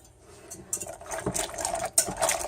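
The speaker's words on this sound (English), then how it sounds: "then you're going to whisk it" Chocolate and hot cream custard being whisked in a bowl for keto chocolate pudding, with close, irregular scraping and patter of the whisk against the bowl that builds and surges in short bursts.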